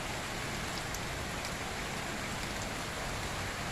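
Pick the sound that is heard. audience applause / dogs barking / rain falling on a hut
rain falling on a hut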